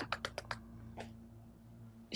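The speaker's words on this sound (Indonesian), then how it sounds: "suara keyboard, tuk, tuk, tuk, tuk, tuk" Computer keyboard typing at a desk in a quiet hotel office, a quick burst of four or five close clicking keystrokes, a pause, one more tap, then another keystroke at the end, over a low steady hum.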